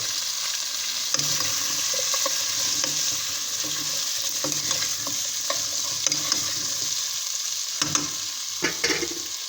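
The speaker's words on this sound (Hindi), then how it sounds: "इसको तकरीबन 5 मिनट तक इतना फ्राई करूँगा कि अच्छे से इसका कलर चेंज हो जाए" Chopped onion and garlic cloves fry in a pot of oil with a steady, close sizzle, interrupted by scraping stirs and occasional clinks of a spoon against the pot. No one speaks.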